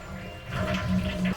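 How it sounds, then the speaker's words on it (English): Toilet tank being flushed to drain it, with rushing water that swells and gurgles over about a second, moderately loud and close, no voices. "The next thing we'll need to do is flush this to get most of the water out."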